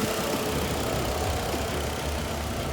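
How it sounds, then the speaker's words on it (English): Car engine idling steadily at an auction, a constant smooth drone with no revving, loud and close, without talk. "The motor's running nice and smooth."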